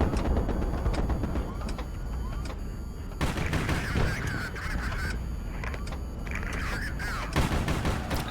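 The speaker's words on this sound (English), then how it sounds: "Where are you pulling those missiles from?" Missiles fire in the naval-air combat game HighFleet: a dense, loud barrage of overlapping launch blasts and rumbling explosions that runs continuously, with sharper bursts surging in waves.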